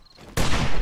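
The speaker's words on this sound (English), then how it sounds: "I'm hearing a lot of gunfire for one zombie." Gunfire in the zombie game 7 Days to Die breaks out suddenly after a quiet moment, a loud burst of overlapping shots that keeps rattling to the end.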